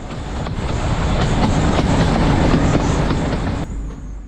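The 110-year-old Bilimora to Waghai heritage train rolls along in a loud, steady rumble with rhythmic clickety-clack of wheels on rails, heard up close before the noise drops away suddenly near the end.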